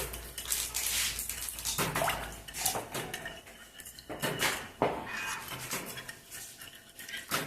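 A spoon clinks and scrapes against a bowl while yeast and sugar are stirred together for bread dough, with irregular clattering strokes close by and brief pauses between bursts, without any talking.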